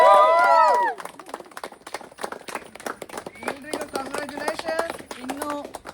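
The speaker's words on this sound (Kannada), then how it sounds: "ಜೋರಾದ ಚಪ್ಪಾಳೆ" A crowd at the Bhagyalakshmi TV serial's 1000-episode celebration breaks into loud, sustained clapping. It starts after a brief voice and carries on with scattered cheers and voices mixed in.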